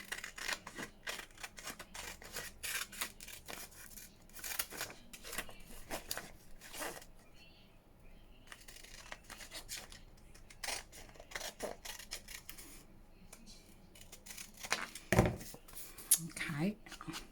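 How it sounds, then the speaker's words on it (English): Scissors snip paper while fairy images are fussy cut, giving repeated short, faint cutting clicks spread unevenly across the clip, with quiet talk in between. "Right, scissors."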